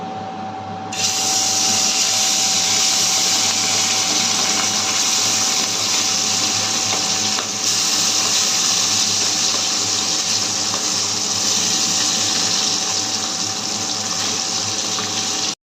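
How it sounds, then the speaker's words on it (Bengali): Small puti fish coated in turmeric hit hot oil in a kadai and fry with a loud, steady, unbroken sizzle that starts abruptly after a second and holds evenly throughout, with no voices. "তেল গরম হয়ে গেছে, মাছ দিয়ে দেবো।"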